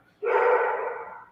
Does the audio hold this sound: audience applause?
no